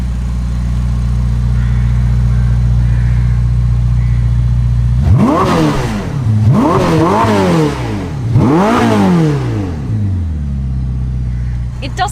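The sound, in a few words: Ferrari SF90 4-litre twin-turbo V8 engine revving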